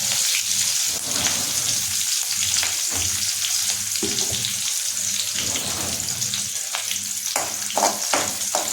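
Crushed chili, garlic and curry leaves crackle and sizzle loudly in hot oil for a potato bhaji, a steady dense frying hiss with sharp pops and occasional stirring clatter throughout.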